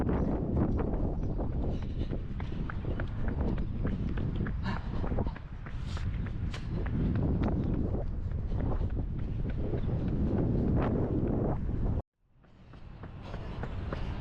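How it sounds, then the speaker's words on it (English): Strong wind buffets the microphone while running a marathon, a loud steady broadband rush with footfalls underneath, cutting out abruptly near the end. "It's very windy on this section."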